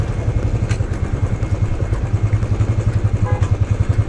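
A motorcycle rides in second gear over a rocky, broken stretch of Indian highway, its engine a steady, close rumble with a rhythmic pulsing throb and occasional clattering thuds from the stony surface.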